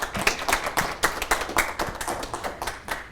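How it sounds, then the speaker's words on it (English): A small audience claps at a university event, a brisk run of irregular hand claps at close to moderate distance, steady for a few seconds with no voices over it. "Let me give him a round of applause,"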